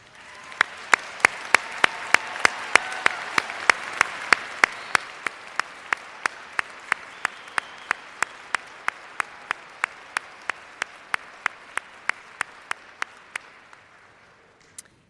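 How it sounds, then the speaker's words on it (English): Sustained audience applause for graduates at a commencement ceremony, a steady wash of clapping from a large crowd with one near clapper striking loud, evenly spaced claps through most of it before the sound tapers off. "please stand and accept our heartfelt congratulations and applause"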